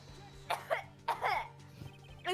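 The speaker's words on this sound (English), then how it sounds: "It's so presumptuous I started coughing" Several throaty coughs and throat-clearing bursts from one person, close up and fairly quiet, in short uneven clusters over a faint steady hum.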